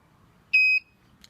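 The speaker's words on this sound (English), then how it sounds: "In 5 seconds it should beep once." A single sharp electronic beep lasting about a quarter second comes from an easy-fit low coolant alarm on an MGF or MG TF sports car. The tone is clean and loud, with near-silence before and after.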